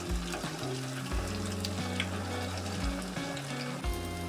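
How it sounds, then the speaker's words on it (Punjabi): Sabudana vadas deep-fry in a kadai over a medium flame, giving a steady, close oil sizzle with bubbling that carries through, backed by a low droning hum. "ਵੜਿਆਂ ਨੂੰ ਅਸੀਂ ਮੀਡੀਅਮ ਫਲੇਮ ਤੇ 4 ਮਿੰਟ ਵਾਸਤੇ ਫਰਾਈ ਕੀਤਾ ਹੈ"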